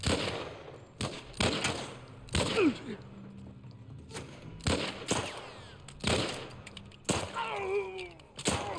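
Repeated bursts of gunfire in The Last of Us Remastered, a handful of sharp shots and short volleys spaced across the stretch with quieter gaps between, plus a brief whistling sweep near the end.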